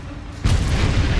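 The Confringo fire-blast spell exploding in Hogwarts Legacy, a sudden loud boom that swells into a sustained rumbling roar after a short quiet lead-in.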